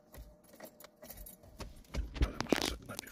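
Metal car keys jangle and clink in short bursts, louder toward the end, with faint background rustling and no speech.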